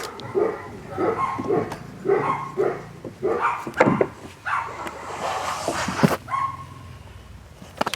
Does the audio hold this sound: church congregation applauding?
no